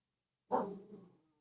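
A single dog bark, close and fairly loud, with a short rough tail fading out after it in an otherwise quiet room.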